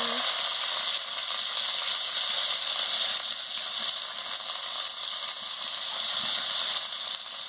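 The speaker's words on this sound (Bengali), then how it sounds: "তেল গরম হয়ে গেছে, আমি পেঁয়াজ কুচিটা দিয়ে দিচ্ছি।" Chopped onion fries in hot oil in a heated pan, a loud, continuous close sizzle that holds steady with no talking.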